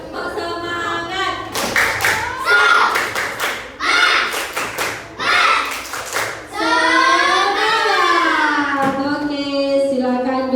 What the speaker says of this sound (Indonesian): Berdiri. Tepuk semangat.